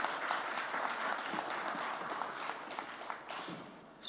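An audience at a multilingual poetry gathering gives a poet a welcome of continuous applause, many hands clapping at moderate distance and fairly quietly, with no speech over it.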